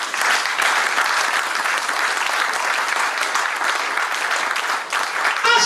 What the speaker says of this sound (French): Acclame pour toi-même.